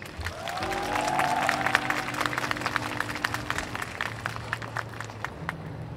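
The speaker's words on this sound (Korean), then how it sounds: "큰 박수 부탁드리겠습니다." Audience applause at the Seoul Jazz Festival open mic jam session as musicians are introduced, a moderate round of clapping from the crowd with sustained instrument tones underneath, gradually thinning out toward the end.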